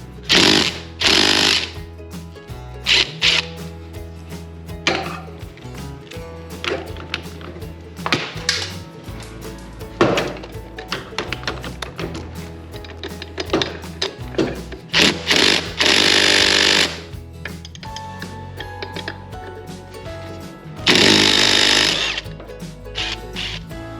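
A power tool, most likely an impact driver, backs out two screws from a garage door torsion spring, firing in loud repeated rattling bursts with short pauses between them.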